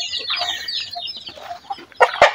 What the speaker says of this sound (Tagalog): dito yung ating mga inahin